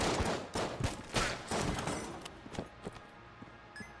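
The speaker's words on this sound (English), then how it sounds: "Oh, that's really fast bullets." Rapid volleys of bullets firing in the modded video game Enter the Gungeon, arriving in loud, dense bursts that pulse on and off every half second or so before thinning to sparser shots.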